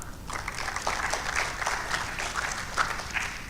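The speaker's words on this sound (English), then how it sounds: "Let's give her a better clap." Audience applause for a speaker at a launch event, dense clapping from many people that stays steady and fairly loud throughout, with no voices over it.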